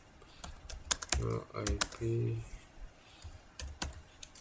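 Commands typed on a computer keyboard for basic switch configuration in Packet Tracer: quick clusters of close, crisp key clicks, a brief steady run, then a few scattered taps, with a voice speaking between them.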